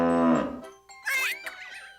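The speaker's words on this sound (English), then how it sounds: "Nell mooed loudly right back at him." A cow lets out a loud, drawn-out moo that slides downward, followed after a short pause by brighter squeaky toy-like toots and whistles.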